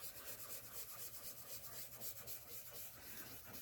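Charcoal is scrubbed and rubbed across paper while a realistic eye is being drawn, giving a steady, close, continuous scratchy rubbing with small repeated strokes and no talking.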